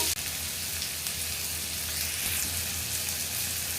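Paneer bhurji with tomato cooks in a hot pan, giving a bright, even sizzle that hisses continuously and fairly loudly for a few seconds, with only faint stirring beneath it.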